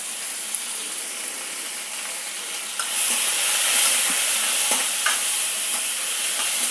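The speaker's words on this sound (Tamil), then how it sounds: "கொஞ்சம் வதங்கட்டும்." Tomatoes seasoned with salt and a little turmeric sauté in a pan for sambar, giving a steady broadband sizzle that grows louder about halfway through, with faint stirring clicks and no talk.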